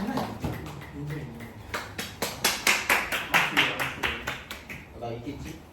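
A classroom gives a round of applause for a student, with a burst of clapping that grows louder, peaks, then fades, while a voice talks over it at the start and end.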